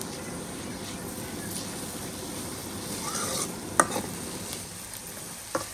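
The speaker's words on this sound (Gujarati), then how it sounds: "આમાં છે ને આપણે ડુંગળી, ટમેટું ને બધું શેડવી નાખવાનું છે પહેલા" Onion, tomato and green chili masala sautés in a pan for a spicy bombil fry, a soft, even sizzle under stirring, with a couple of sharp utensil clinks near the end.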